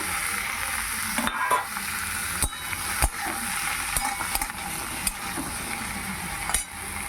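Snake gourd fries in a hot pan with a constant bright sizzle, broken by sharp scraping clicks of a spatula stirring every second or so, close and steady with no talk.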